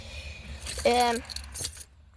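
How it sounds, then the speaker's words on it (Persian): Car keys jangle briefly and close up inside a car, a short metallic rattle with a second smaller jingle just after. "کلید ماشین."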